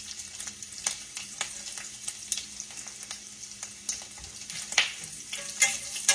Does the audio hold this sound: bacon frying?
yes